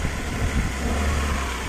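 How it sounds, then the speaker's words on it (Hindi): A Chevrolet Beat petrol car engine runs close by with a dense, steady mechanical roar and slight swells in level, sounding like a sustained rev rather than distinct separate blips. "आपको एक बार रेस करके भी दिखा देता हूँ।"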